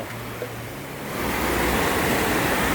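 Rushing water at Mo Paeng Waterfall in Pai, Thailand, after heavy rain: a steady, broad roar that starts moderate and swells louder after about a second, continuous and close.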